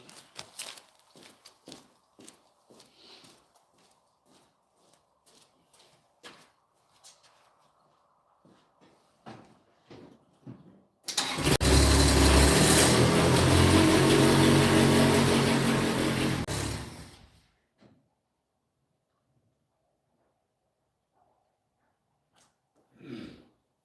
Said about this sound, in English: I'll move my Kubota real quick.